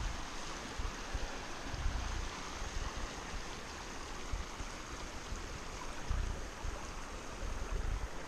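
Cedar Creek flows steadily at a water refill stop on a trail, a continuous broadband rush of running water mixed with some wind noise, fairly close and unbroken.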